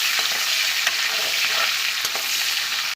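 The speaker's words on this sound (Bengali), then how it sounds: "এখন এই মাছ ভাজার তেলেই আমি এখন হালকা করে ডাঁটাগুলোকে ভেজে নেব" Drumstick stalks fry in leftover fish-frying oil in a pan, making a loud, continuous, close sizzle that cuts off abruptly at the end.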